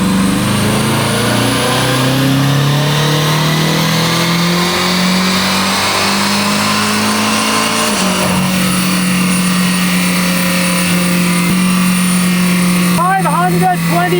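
A 2012 BMW M5 (F10) engine roaring loudly at full throttle on a dyno from just below 2000 RPM, its pitch climbing steadily as revs build, then a shift and continued high-revving drone.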